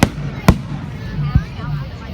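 Backyard fireworks in Arlington go off in three sharp, loud, close bangs spaced about half a second to a second apart, with a low background hum between blasts.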